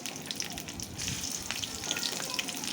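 Chopped onion and green chili fry in a light film of oil in a wok, giving a soft, steady crackling sizzle close by.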